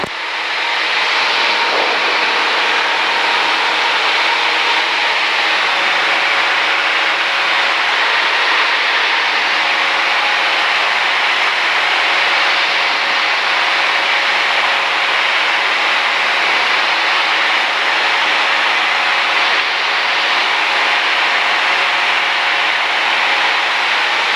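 Steady, loud broadband engine and rotor roar inside a helicopter in flight, a constant sustained wash with no speech over it.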